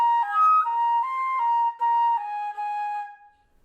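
Solo flute plays a short, clean phrase of a theme from The Young and the Restless, mostly eighth notes ending on a held quarter note, close and clear with no other sounds.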